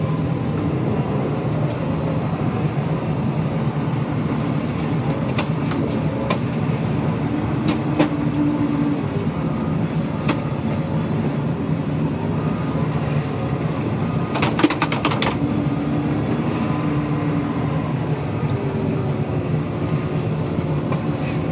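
Steady low diesel drone of a 2011 Doosan DL250 wheel loader plowing snow in a parking lot, heard from inside the cab, continuous and fairly loud with occasional clicks and rattles over the engine.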